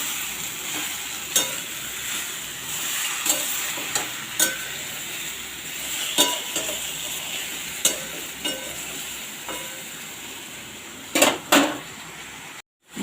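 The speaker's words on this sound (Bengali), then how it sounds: "আবার এর সঙ্গে খুব হালকা গ্যাসে এর সঙ্গে ভালো করে মাখিয়ে নেব।" Spinach is stirred in a pan over a very low gas flame under a steady soft sizzle. A spatula knocks and scrapes against the pan every second or so, with a louder double clatter near the end.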